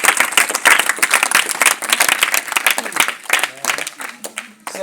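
A congregation claps at a Good Friday 2024 church service in Hiré: dense, sustained applause that swells and dips continuously for the whole stretch, with voices mixed into the crowd noise.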